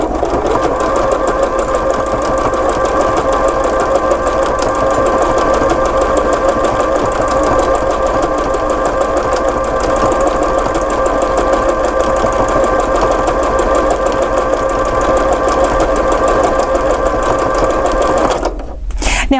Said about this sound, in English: I've slowed down my top speed of my machine just a little bit with that speed control on the top.